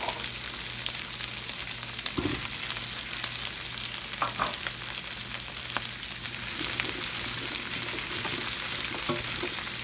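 Mushrooms and carrots frying over high heat in a pan, a continuous loud sizzle with occasional stirring scrapes and clatters throughout.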